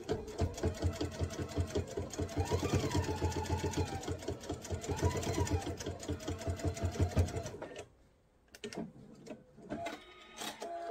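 Up close, a sewing machine bastes a quarter-inch seam down the side of a mesh tote, running in a fast, rhythmic chatter for several seconds before stopping, followed by quieter handling noises.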